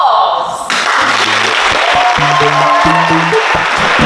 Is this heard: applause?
yes